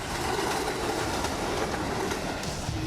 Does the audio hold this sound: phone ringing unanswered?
no